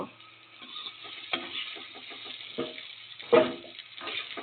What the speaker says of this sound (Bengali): আলুগুলা বেশ লাল লাল করে ভাজা হয়ে গেছে, এবার উঠিয়ে নিব